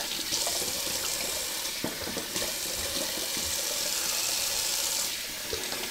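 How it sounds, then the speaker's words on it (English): A bathroom sink tap runs steadily for a cold water rinse after a wet shave, a continuous close hiss of flowing water splashing into the basin with no talk. "Alright, cold water rinse."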